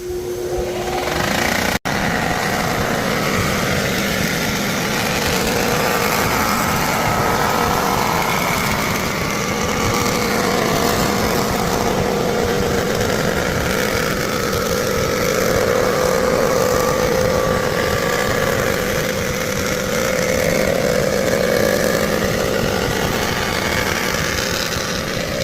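A surfacing machine resurfaces a warped engine cylinder head, running as a loud steady mechanical whir and grind that holds evenly for the whole stretch after a short start, with no talk.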